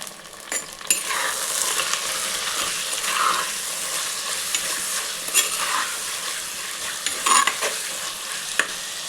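Mutton added to fried onions sizzling in a pan for mutton curry, a continuous crackling fry with repeated scraping stirs and brief clanks of a utensil against the pan.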